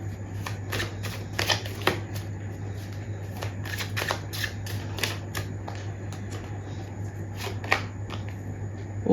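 Tarot cards are shuffled and drawn, making repeated crisp riffling snaps and flicks at close range over a low steady hum, with no talking.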